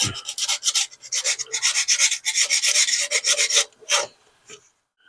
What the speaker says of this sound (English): Scuff the rest of that up a little bit.